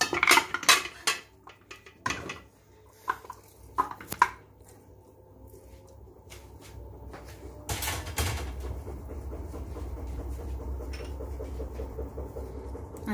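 Meat added to a cooking pot with olive oil, heard as a burst of clattering metal and utensil knocks followed by a steady, soft sizzle that builds and continues underneath.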